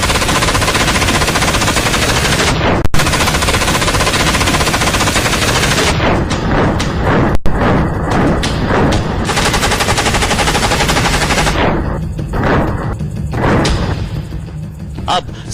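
Modern Israeli assault rifles fire long, loud, rapid automatic bursts, a dense rattle of gunshots broken by brief pauses and a few heavier single cracks.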